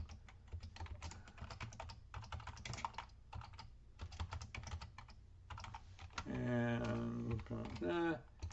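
Typing on a computer keyboard: rapid, irregular clicks in bursts with short pauses, close and fairly quiet, followed by a brief musical or tonal passage near the end.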